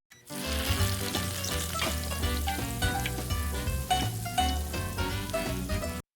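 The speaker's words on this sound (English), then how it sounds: "We're going to start by browning the butter." Butter browning in a pan sizzles and crackles steadily up close, a dense spattering fry with occasional stirring, loud throughout with no talking.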